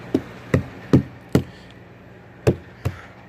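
Knuckle knocks on old and new fiberglass of a jetski boat hull under rebuild, six sharp close raps in two groups, the tone shifting from thick and dull to thinner and hollower, with no talk.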